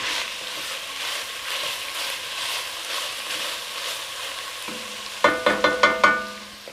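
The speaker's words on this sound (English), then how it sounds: "Let that onion cook down a bit and get translucent." Onions cooking in a pan give a steady, soft sizzle and frying hiss, then a few stirring scrapes and knocks near the end.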